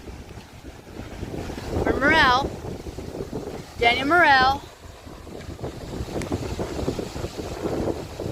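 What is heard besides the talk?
wind by the lake shore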